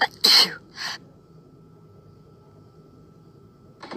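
A single sharp, loud sneeze up close, followed by a shorter breathy burst, then near silence before a voice starts at the end.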